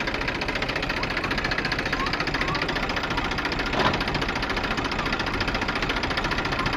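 A tractor engine runs at a steady, rattling idle close by, with a brief clunk and surge midway as the gear is engaged, then settles back into its even throb.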